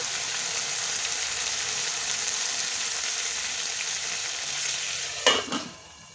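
A bean pickle sizzles steadily in a pan. Near the end, tamarind water is poured in and sets off a brief loud hiss and splash, then the sound quickly dies down.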